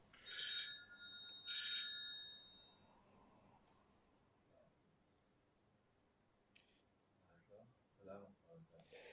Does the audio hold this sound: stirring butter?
no